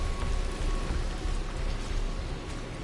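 Steady, dense rain pours down in the Rise of the Tomb Raider video game, a loud continuous hiss of drops drumming on surfaces with no voices over it.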